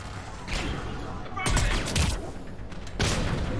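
Enemy turret gunfire in Mass Effect 3 during a combat mission, arriving as loud sustained bursts of shots in waves, with heavy impacts and battle noise filling the background.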